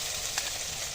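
Garlic paste frying in hot oil while cooking chicken curry, a steady faint sizzle throughout with a brief louder burst near the start and a sharp spike at the very end, no voices.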